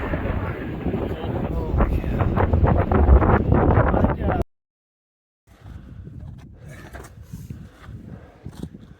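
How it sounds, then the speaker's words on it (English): Strong wind buffets the microphone with loud roaring gusts, cuts out briefly, then returns as a weaker rumbling blow. "But crazy windy."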